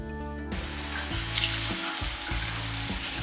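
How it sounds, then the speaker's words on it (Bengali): A batter-coated stuffed bread pakora deep-fries in hot oil with a dense, steady sizzle that swells after it goes in, heard alongside background music. "এক্সট্রা যে ব্যাটারটি থাকছে সেটিকে রিমুভ করে নিয়ে গরম তেলে ছেড়ে দেব।"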